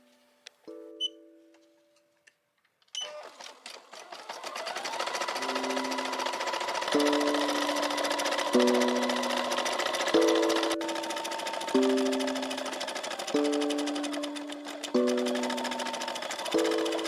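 Embroidery machine stitching a design after its thread is fixed and the hoop is put on, a steady close mechanical whirr with rhythmic needle ticks and repeated beeping tones throughout, following a few quiet clicks and bleeps at the start.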